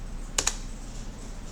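A computer mouse gives a quick double-click, two crisp taps close together, heard up close and quiet against a soft room hiss.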